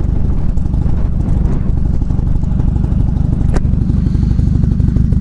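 A motorcycle, apparently a Yamaha R6, is ridden after a clutch repair, its loud engine rumbling steadily and close-up with clattering and wind buffeting throughout.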